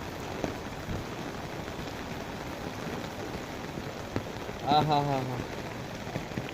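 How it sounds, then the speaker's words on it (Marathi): Heavy unseasonal rain falls steadily in a rural green setting, a continuous dense hiss of drops on surfaces throughout, with a brief spoken word from a nearby voice partway through. "लय भारी पाऊस पडतोय"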